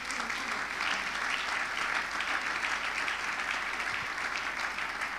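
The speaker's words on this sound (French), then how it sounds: "on peut acclamer" Steady applause fills the room at a church conference, a dense, even clapping from a large audience sustained without a break.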